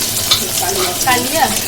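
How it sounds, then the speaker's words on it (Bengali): Fish frying in a pan in a home kitchen, a dense, loud crackling sizzle that fills the short moment without pause, while a voice says a single word over it. "এখানে হচ্ছে মাছ ভাজা"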